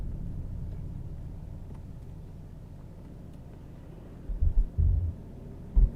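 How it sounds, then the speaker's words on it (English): A large tractor drives past on a rural road, giving a steady low rumble throughout with a few heavier thumps near the end. "Oh, that's a big tractor."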